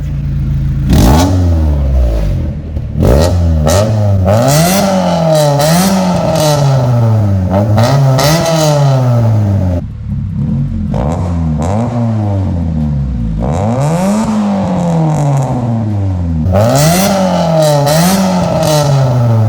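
A Honda Civic engine revs repeatedly, rising and falling in pitch with a rough, rattly note from a leaking exhaust, loud and close, with no talking.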